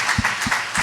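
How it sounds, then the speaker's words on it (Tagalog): A church congregation claps in quick rhythmic beats, a brief burst of applause in a reverberant hall at a preaching service. "Palakpakan nga po natin ang mahal na Panginoon"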